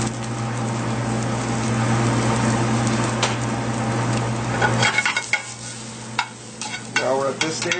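Oyster mushrooms with garlic and chili flakes sizzle steadily in a pan, a dense close frying hiss broken near the end by a few scrapes and clinks of stirring.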